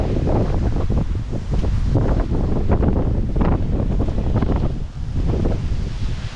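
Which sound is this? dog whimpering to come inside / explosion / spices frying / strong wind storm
strong wind storm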